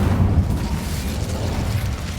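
An Incendio fire spell cast in Hogwarts Legacy, a low rumbling whoosh of flame that swells and rolls steadily, heavy in the bass, loud and sustained throughout.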